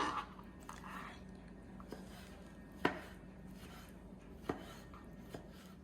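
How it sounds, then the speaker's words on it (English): Kitchen knife dicing tomatoes for salsa on a cutting board, a few soft, sparse chops and taps spaced irregularly, quiet and close. "I'm using knife in dicing tomato"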